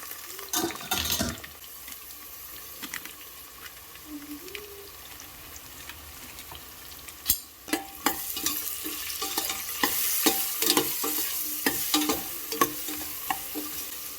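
Horseradish frying in a pan as sambar masala is stirred in, with a steady sizzle broken by repeated scraping and clattering stirring strokes that grow busier and louder toward the end.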